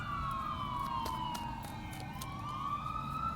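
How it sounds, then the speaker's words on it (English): An emergency vehicle siren wails with slow rising and falling sweeps, sounding somewhat distant over a steady rumble of background noise. "You hear them sirens?"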